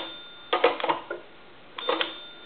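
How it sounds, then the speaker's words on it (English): Bell inside an A&E three-slot payphone giving two brief, tinny jangles about a second apart, close by and otherwise quiet. "You can hear that bell seize."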